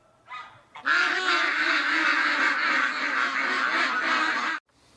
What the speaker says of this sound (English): A flock of Canada geese just flew in.